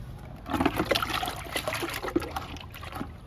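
Liquid fertilizer trickles and splashes onto a flowering garden plant in a steady close pour lasting a few seconds, with no voices.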